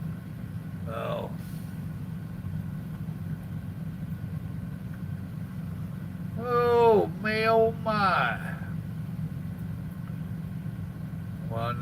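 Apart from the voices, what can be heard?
truck engine idling while backing in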